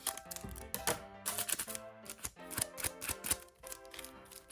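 Foil One Piece trading card booster packs being torn open and cards handled, a quick run of crisp crinkles, rips and taps, close and fairly loud with no talking.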